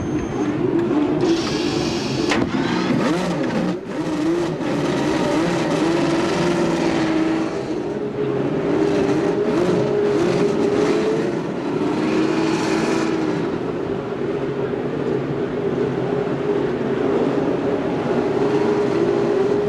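Race car engines fire up on the grid at the 1989 Michigan 500, a dense sustained roar with rising revs and droning pitch, loud and continuous with crowd ambience behind.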